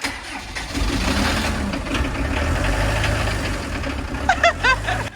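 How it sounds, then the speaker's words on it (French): A 1994 Citroën C25 camper van diesel engine starting after cylinder head work, catching and settling into a loud, rough knocking idle, with a few short voice-like squeaks near the end. "Et donc le camping-car a démarré."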